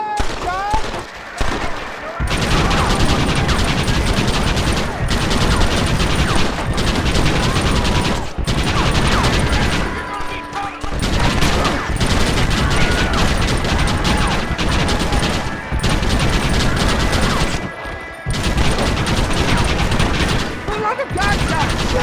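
Heavy gunfire in Red Dead Redemption, a near-continuous fusillade of rifle and revolver shots with mechanical clatter, loud and dense with a few short pauses, with shouted talk mixed in.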